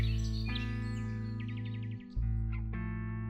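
Birds chirp and trill in a calm city, with clear repeated tweets and a rapid twittering run over a steady low hum, briefly dipping before resuming.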